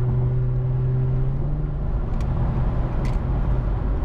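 A car fitted with a Speed Culture Studios custom exhaust drones along a highway in sport mode, a steady low exhaust tone with a held pitch that drops and thickens midway, loud and close with no talk.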